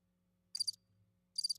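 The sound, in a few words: crickets chirping sound effect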